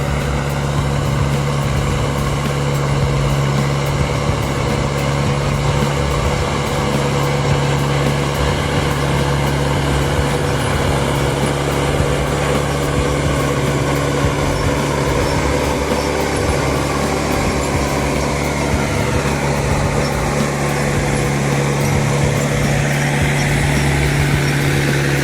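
A logging skidder's diesel engine runs continuously and steadily on a narrow mountain road, a loud, even drone with a constant hum and no pauses.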